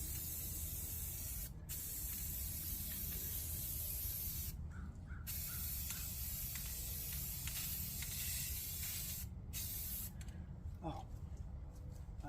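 Spray painting exterior trim outdoors on a dead-calm day, a steady close hiss of the sprayer running almost continuously with a few short pauses, while a person says a brief word.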